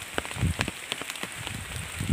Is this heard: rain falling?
yes